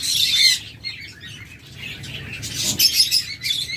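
A flock of breeding diamond doves in a seller's collection chirps and twitters in dense, bright bursts, loudest at the start and again near the end, with faint wing flutters and no voices.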